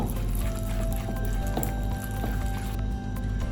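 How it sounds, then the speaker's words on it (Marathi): Wet, squishy stirring and slapping of soaked semolina being mixed into ground moong dal batter in a bowl, continuous and close throughout. "आता आपण जो रवा भिजत घातला होता तो यामध्ये टाकून घ्यायचा. हे रवा आणि मुगाची डाळ आपल्याला व्यवस्थित मिक्स करून घ्यायची."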